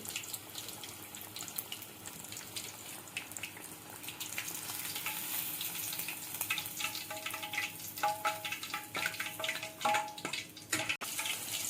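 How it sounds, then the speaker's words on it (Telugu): Fish pieces deep frying in oil, a continuous soft bubbling sizzle with scattered crackles and pops that grow busier toward the end, close but fairly quiet, with no talk. "డీప్ ఫ్రై చేస్తున్నాం కదా"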